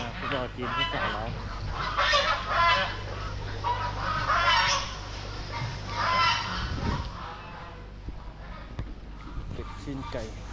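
Ducks, chickens and geese at a Chinese supermarket market in Vientiane's Chinatown, a busy mix of honking, clucking and squawking fowl heard close, with people talking over the birds throughout.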